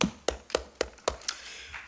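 Clapping at a Roselle Park council meeting: five or six sharp, evenly spaced claps, fairly close and moderately loud, with no talk over them and a short trailing fade.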